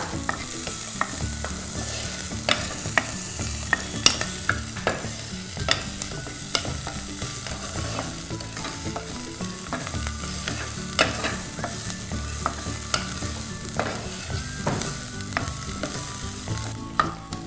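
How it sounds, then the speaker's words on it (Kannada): Curry leaves and onion frying in a pan for Udupi sambar, a steady sizzle beneath repeated scraping and clinking of a spatula stirring against the pan, close and continuous for the whole stretch. "ಕರಿಬೇವು ಈರುಳ್ಳಿ ಹಸಿ ವಾಸನೆ ಹೋಗೋ ತನಕ ಹುರ್ಕೊಳ್ಳೋಣ"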